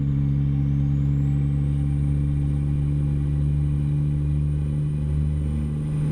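Truck engine in American Truck Simulator, a steady low droning hum with a constant tonal whine and a rising high pitch at the start, continuous and close with no talk.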